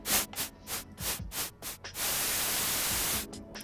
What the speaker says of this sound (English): Hopefully, you can hear this beautiful white noise.